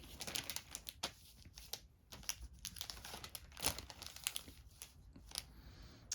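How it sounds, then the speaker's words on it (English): A plastic bag crinkles and rustles in quiet, uneven bursts of close crackling while the Dead by Daylight board game collector's edition is unboxed. "And a plastic bag it came in."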